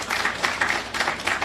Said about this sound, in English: Let's give whoever thought of that a big round of applause